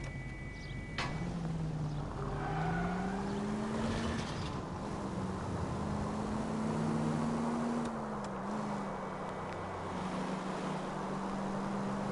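A car engine running rough runs steadily with a low, uneven drone that wavers in pitch, with a brief higher whine partway through and no talking.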